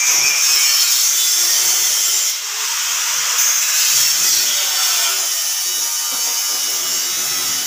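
A concrete block press lowers its compactor onto the mix in the mould, giving a loud, steady grinding hiss that runs unbroken for the whole stretch, with no voices.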